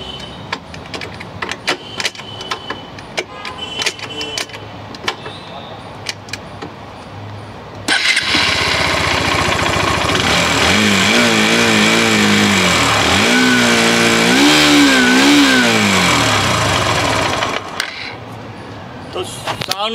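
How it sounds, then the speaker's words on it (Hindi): A Hero Xtreme 160R 4V motorcycle idles near a microphone, then is revved hard in repeated rising and falling bursts for about ten seconds before settling back; faint voices and handling noises are heard at the edges. "आपको सुनवा देते हैं एक्सट्रीम का साउंड।"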